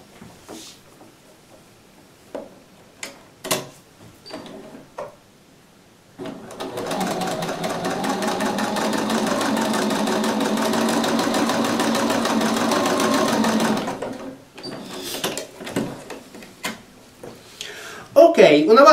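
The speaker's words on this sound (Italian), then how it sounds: "E cuciamo poi il nostro gambo." A sewing machine stitches a fabric stem in one steady, loud run of about seven seconds, with quieter clicks, handling noises and brief speech before and after.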